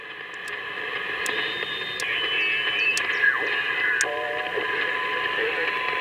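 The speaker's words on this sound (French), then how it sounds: "Là, on reçoit du morse." Morse code arriving on a CB radio in a portable field setup: thin, steady beeping tones float above a constant bed of hiss and static, with brief pulses and soft crackle, and no voice.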